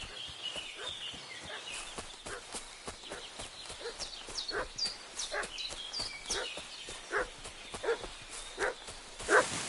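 Barking from a dog in the open-world medieval game Kingdom Come Deliverance II, a series of sharp yelps repeating irregularly at moderate distance over faint ambient birds and outdoor background.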